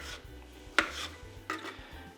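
A knife cuts avocado halves into cubes, giving faint scraping, tapping strokes against the skin or board, including two clearer cuts over a low background hum.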